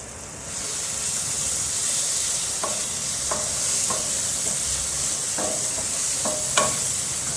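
Tadka tempering with kasuri methi sizzles steadily in hot oil for pumpkin dal, a constant frying hiss broken by a few sharp spoon scrapes and stirring clinks near the pan, no talking.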